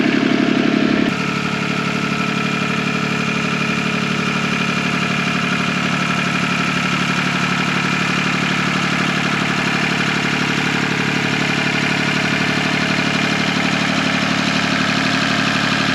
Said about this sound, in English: Sammy's here in the Kubota